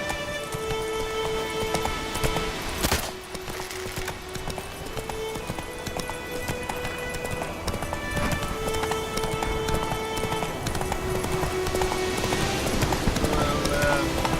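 A horse gallops in the video game The Witcher 3, with a continuous rhythmic clatter of hooves under ambient game sound and occasional other effects; a voice speaks briefly.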